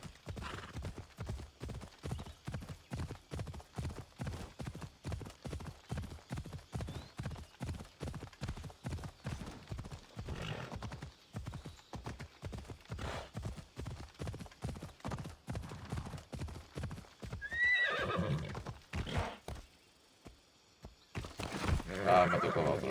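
Rhythmic hoofbeats of a horse clip-clop steadily in Assassin's Creed Odyssey, a long regular trot that fades before a loud neigh and whinny breaks through near the end.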